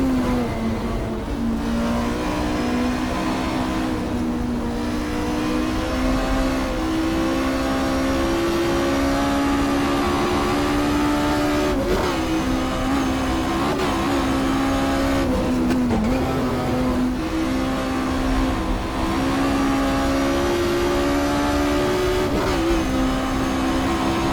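A car takes a flying lap of the Isle of Man course, its engine droning loud and steady from start to finish, the pitch rising and falling with gear changes and throttle.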